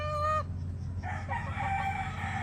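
A gray brood cock gives a clear, close crow at the start, followed by softer clucking and other fowl calls over a steady low hum.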